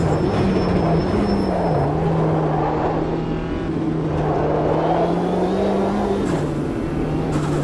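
Race car engines droning steadily through laps of Oulton Park in a VR Mini racing game, a continuous loud engine tone shifting pitch slightly as the cars corner and accelerate.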